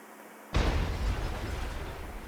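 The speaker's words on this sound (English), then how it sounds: "yes, you may have guessed, it's an airstrike. It's gonna hit whatever I want with this laser designator tool." An airstrike called in with a laser designator in a modded video game lands as one sudden loud boom, followed by a sustained rumbling roar that fades only slightly over two seconds.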